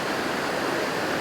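A multi-level waterfall on the Lurg Burn roars in a dense, unbroken broadband rush, loud and steady, with no voices present.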